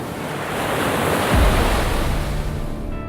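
Ocean surf at a triathlon swim start rolls in as broad, continuous wave wash with wind noise buffeting the microphone, one surge building around the middle, no voices.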